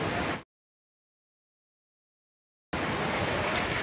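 Ocean waves at Tanah Lot, Bali, make a steady broadband roar of surf. The sound cuts out abruptly into a couple of seconds of total silence, then returns just as loud.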